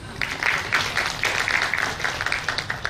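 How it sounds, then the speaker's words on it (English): An audience at a panel discussion gives a full round of applause, dense, steady and fairly loud clapping that continues through the whole stretch with no voices over it. "I think that fact deserves a round of applause."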